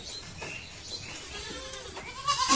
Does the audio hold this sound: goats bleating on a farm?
yes